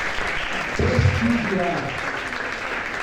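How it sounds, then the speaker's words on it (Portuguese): An audience at a CONECTV Talks event claps steadily at moderate loudness for Fernando Seabra, with a speaker's voice running over the applause throughout. "peço uma salva de palmas"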